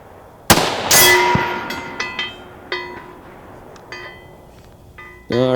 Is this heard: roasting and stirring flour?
no